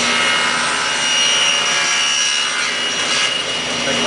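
Saw blade cutting a wood board into staves for a segmented bowl, a steady loud continuous whine with rasping grit running the whole stretch, no voices.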